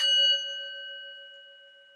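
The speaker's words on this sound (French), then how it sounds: "Et quand tu entendras ce gong," A single gong strike in a guided meditation rings out clearly and alone, its bright metallic tone sustaining and slowly fading over two seconds.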